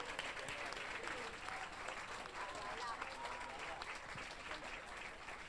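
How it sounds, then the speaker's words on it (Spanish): Steady crowd applause at a leftist political gathering honoring a longtime comrade, dense clapping filling the room at moderate distance throughout, with voices faintly mixed into the ovation. "un aplauso especial para Mario Doglio"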